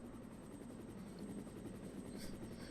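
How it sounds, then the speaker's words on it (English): A helicopter arrives in a survival horror video game, its rotor thumping in a fast even chop with a thin whine above, heard faintly at a distance and holding steady throughout. "Oh, there's the sound of the chopper."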